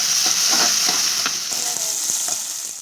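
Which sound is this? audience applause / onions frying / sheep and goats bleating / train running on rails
onions frying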